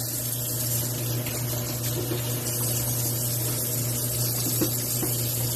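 DeLonghi espresso brew unit parts are washed under a running tap, a steady loud water rush with a constant low hum beneath, continuous for several seconds and without speech.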